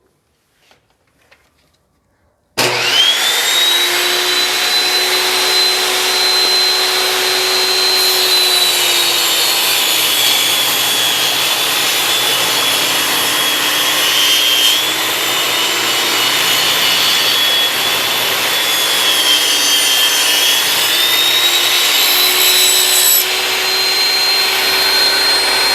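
A table saw starts up after a short quiet moment and runs loud and steady while its blade cuts through wood, a sustained high whine holding for over twenty seconds with slight dips in pitch as the cut loads the blade.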